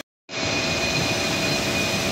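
A Chevrolet Spark engine, freshly overhauled after overheating, idles steadily and close by with a constant whine, starting abruptly after a brief silence and running alone.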